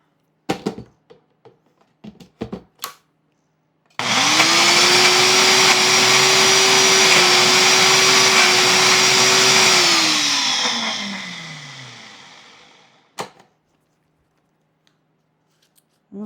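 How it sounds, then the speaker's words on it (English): Kitchen blender mixing a buffalo chicken burrito filling, a loud steady motor whir that starts abruptly, holds for about six seconds, then winds down in pitch as it stops, with a few clicks and knocks around it. "Back onto the blender."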